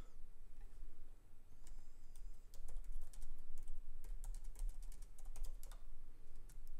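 Fingers type a prompt on a computer keyboard in quick, uneven bursts of clicky keystrokes, close and fairly loud, over a low steady hum, with no voices.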